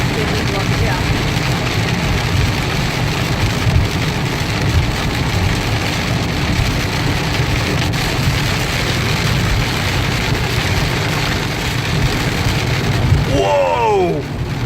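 Heavy thunderstorm rain drums steadily on a car during a night of frequent lightning, a dense constant wash with a low engine rumble beneath, and a voice exclaims briefly near the end.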